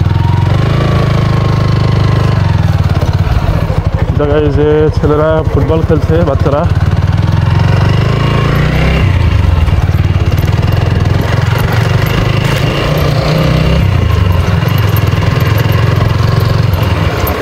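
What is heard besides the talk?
motorcycle engine while riding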